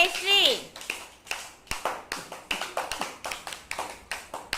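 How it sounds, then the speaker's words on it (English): Children in a classroom clap for a classmate, a quick irregular run of small-hand claps that starts after brief talk and continues steadily, fairly close and moderately loud. "Clap for Jayashree, all of you"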